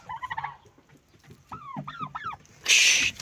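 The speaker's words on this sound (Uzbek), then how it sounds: "Mana ikkita xo'roz" Roosters on a farm give several short harmonic calls with rising and falling pitch, then a louder, harsher squawk near the end; close by, with no talking.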